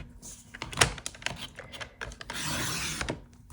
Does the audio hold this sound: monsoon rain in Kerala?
no